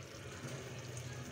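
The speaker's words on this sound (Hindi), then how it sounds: "इसमें मैंने 1/2 कप पानी ऐड कर दिया है" Half a cup of water poured into a pan of cooking chicken masala for Lahori murgh cholay, a soft continuous splashing pour heard up close and alone.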